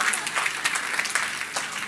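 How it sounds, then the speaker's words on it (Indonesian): Church congregation applauding together, a lively close burst of many hands clapping with a few sharper claps standing out, no speech on top. "kasih tepuk tangan semua"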